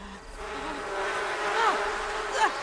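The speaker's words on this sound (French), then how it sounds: "Et on se fait attaquer par les abeilles" Bees in The Sims 4 give a continuous, steady insect buzz with a few faint chirps over it, moderately loud and without talk.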